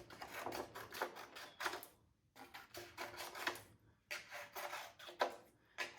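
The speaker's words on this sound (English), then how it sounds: "you're going to take your scissors and your green paper and you're going to just start cutting blades of grass" Scissors cut green paper into blades of grass, with close, quiet bursts of rapid crisp snips separated by brief pauses and no voices.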